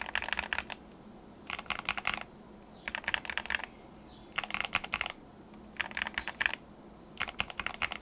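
Bursts of typing on an Epomaker TH66 keyboard fitted with black Gateron Pro linear switches and pre-lubed stabilizers, dense deep clacks coming in regular spurts of about a second separated by short pauses, close and clear.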